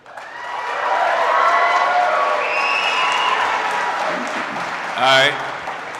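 Audience at a 2022 Conservative Party of Canada English-language leadership debate applauding and cheering, a steady crowd roar with whistles that holds loud for several seconds, swells again near the end, then fades.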